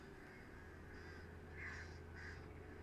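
Crows in a video game caw in short, faint bursts, two or three harsh calls spaced over a steady low ambient hum, with no talking.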